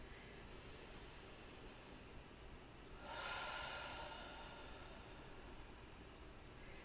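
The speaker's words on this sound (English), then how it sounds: "Breath in through your nose. Then go through your mouth with an audible sigh." Deep breath drawn in through the nose and let out through the mouth as an audible sigh, a soft steady airy rush that swells for a second or so over a quiet hiss, with no talking.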